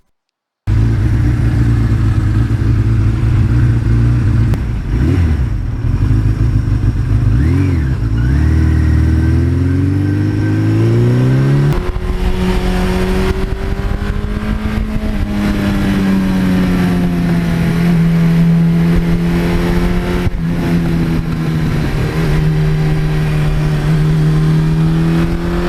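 A Suzuki GS1100E motorcycle rides the open road on a cool early morning, its engine a loud, continuous drone that rises and falls in pitch through acceleration and gear changes.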